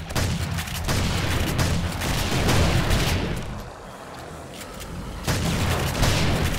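Explosions and heavy gunfire from a Horde Night battle in the 7 Days to Die survival game, modded with Rebirth. The blasts come as dense, loud, overlapping booms, steady and continuous with no talking.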